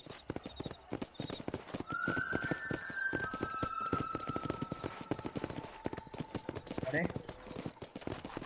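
Horse hooves clip-clop steadily in the Red Dead Redemption video game, a quick regular rhythm of close hoofbeats running the whole time under talk and a brief whinny, with a few faint tonal game sounds in the background.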